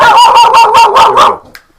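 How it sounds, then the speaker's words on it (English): A dog barks in a quick run of about six loud, close, evenly spaced barks, then a last short yip before it falls quiet. "And she will bark, and then they will bark, and then she'll bark for a long time."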